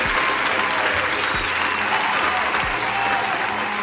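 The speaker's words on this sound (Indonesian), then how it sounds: "Tepuk tangan sekali lagi." Loud, sustained applause from a room of people at a company's fifth-anniversary celebration, dense clapping running continuously with a few low thumps underneath.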